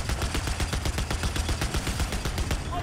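Rapid automatic gunfire from a Battlefield 4 firefight, a dense, loud, steady stream of shots repeating in a fast regular rhythm for the whole stretch, with no voices over it.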